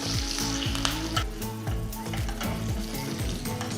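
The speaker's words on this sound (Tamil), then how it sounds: "ஒரு சின்ன தாளிப்பு கரண்டியில் கொஞ்சம் எண்ணெயை ஊற்றி எண்ணெய் சூடானதும் கொஞ்சம் கடுகு, கொஞ்சம் சீரகம்" Mustard seeds, cumin and broken red chili crackle and sizzle in hot oil in a small tempering ladle, a loud steady fry dotted with sharp popping bursts and scraping stirs, with no voices.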